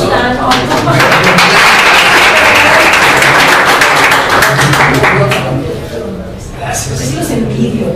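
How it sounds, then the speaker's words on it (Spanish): Audience applause for a guest speaker at a startup event in Mexico City, dense and loud clapping from a crowd that swells, dips briefly near the end and picks up again, with a voice faintly underneath. "Un gran aplauso."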